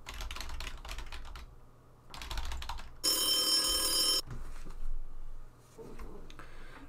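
A telephone rings loudly for about a second during a phone call, sitting between bursts of computer keyboard typing. Quieter background sounds follow.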